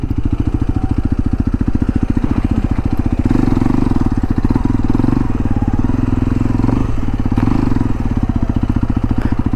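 Hero Xpulse 210 motorcycle engine running loud and close while being ridden, a steady rapid firing pulse with rising and falling revs and no speech.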